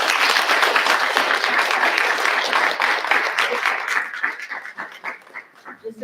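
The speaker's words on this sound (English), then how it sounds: "Now let's give a round of applause." Audience applause at a Capitol Hill policy briefing on clean energy access, a steady dense wash of clapping that thins out and tapers toward the end.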